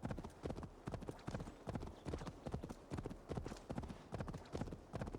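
A horse gallops at speed in Assassin's Creed Odyssey, with rapid, rhythmic hoofbeats pounding steadily and close throughout, alone with no talk.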